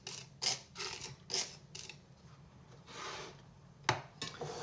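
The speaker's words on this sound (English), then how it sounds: "So scrape this out into a bit of sugar, like this." Close, soft scraping of vanilla bean seeds into sugar, several short rasping strokes with brief gaps and a sharper tap near the end.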